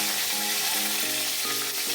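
Dried red chillies fry in hot oil in a kadai with a loud, continuous crackling sizzle that runs the whole time, with faint tonal sounds behind it.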